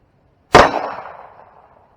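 A single sharp gunshot from a Taurus G2C 9mm pistol fed by a Mec-Gar P226 20-round magazine with a Wolff spring, close and loud, with a ringing tail that fades over about a second.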